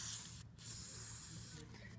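An aerosol can of WD-40 sprays in a steady, close hiss with one short break midway, worked on the exhaust of a straight-piped Dodge Caliber, over a low engine-like hum.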